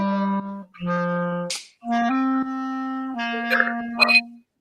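A dog whines and yips in a series of drawn-out, high, tonal cries with short breaks between them, close by and fairly loud in a quiet room.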